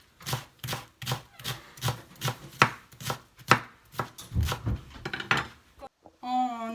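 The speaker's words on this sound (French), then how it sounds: "On va découper tout, des tout petits" A knife chops cabbage into small pieces for a gyoza filling, striking the board in a quick, regular series of close, crisp knocks that turn busier and denser toward the end, followed by a short tonal sound.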